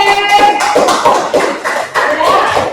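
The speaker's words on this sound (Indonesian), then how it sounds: "Tepuk tangan untuk kelompok D" Classroom applause for a student group, many hands clapping in a loud rhythmic burst close by, with a brief dip before the clapping resumes.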